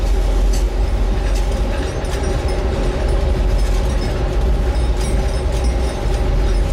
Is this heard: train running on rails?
yes